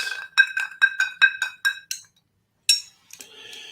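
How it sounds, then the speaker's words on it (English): A piece of clear ice in a glass of flavored drink clinks repeatedly against the side, about eight bright ringing taps in quick succession, close and crisp, followed by a pause and a last clink and a soft rustle. "That bit of ice finally dislodged. It was stuck to the side of the glass."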